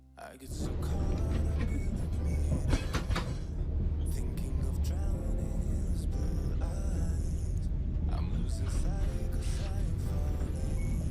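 A Thai sleeper train travelling north rumbles steadily with low engine and wheel drone, clanks and rattles of carriages, and people talking quietly over the constant moving-train noise.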